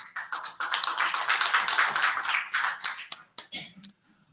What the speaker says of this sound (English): Let's give a round of applause for the students.